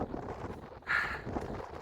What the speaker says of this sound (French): Un petit vent bien frais et bien agréable.